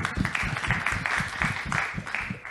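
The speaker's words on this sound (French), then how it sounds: "Je vous propose d'applaudir Cyril de Easy Show" Audience applause for a performer at an awards show, heard as a short burst of close, rhythmic clapping from a small crowd, fairly even and moderately loud throughout.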